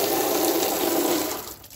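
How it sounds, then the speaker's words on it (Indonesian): Water gushes steadily from a tap fed by gravity pressure from a rooftop tank with no pump, a dense rushing hiss that tapers off in the last moments. "Akan membuat tekanan lebih kencang pada keran air di sini."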